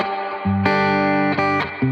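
Electric guitar played through a reverb pedal, a few loud sustained notes and chords ringing out one after another with a lingering wash between changes, no voices.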